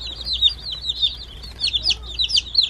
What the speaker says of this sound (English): Hooray, more chicks.